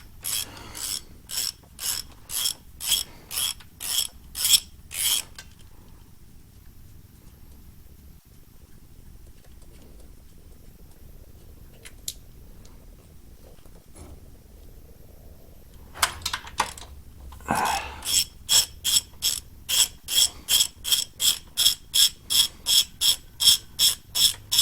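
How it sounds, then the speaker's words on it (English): A hand ratchet clicks in fast, even strokes while bolts come out of a 1958 Plymouth transmission pan, two bursts of rhythmic ratcheting separated by a quieter pause with a few scattered clanks. "take these two bolts out of the pan"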